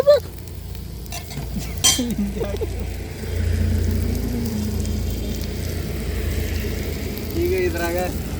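Chicken masala sizzles in a hot pan as coriander powder is stirred in, with steady frying hiss, a few sharp scraping clicks of the spoon and a low background rumble.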